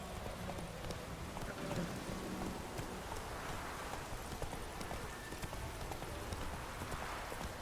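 In The Witcher 3, the horse Roach trots with a steady rhythmic clip-clop of hooves, moderately faint, under a rain-like wash of noise, with no talk.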